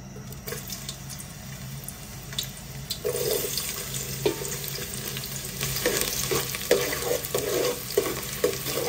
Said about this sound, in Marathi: आपलं तेल तापलेलं आहे। आता कांदा घालूयात।